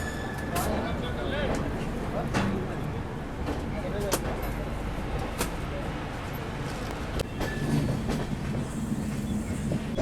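Rajdhani Express, the New Delhi–Sealdah train, rolls along just after departure, heard from inside a 3rd AC coach as a continuous loud rumble with rhythmic wheel clicks and a few sharp knocks over the rails.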